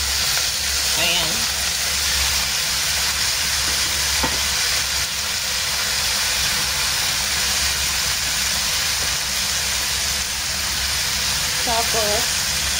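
Tofu and fresh fish fry and get stirred in a pan with oyster sauce, giving off a constant loud sizzle and hiss along with a few soft scraping clinks from the utensil.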